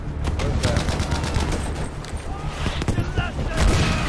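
Rapid gunfire in Battlefield V on hardcore mode: dense, loud bursts of automatic shots crackle and echo continuously, with a voice talking over them.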